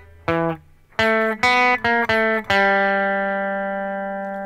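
Measures 3 and 4 of the Super Mario Bros. theme on guitar: bright staccato plucks in a bouncy rhythm end on a long note that rings on and slowly decays. It is close-miked and solo, with no speech.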